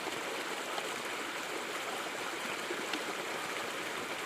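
Mountain spring water on Mount Vermio flows steadily as a bright, continuous rush, close and fairly soft, with no voices over it.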